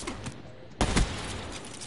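Rapid-fire gunfire in Black Ops 3 multiplayer: faint shots early on, then a sharp, loud volley bursts out near the middle and decays into lingering noise.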